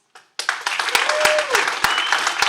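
Audience applause breaks out at a school board meeting, a dense burst of many hands clapping that swells quickly and carries on steadily, with a few sharper claps and a raised voice or whistle poking through the crowd noise.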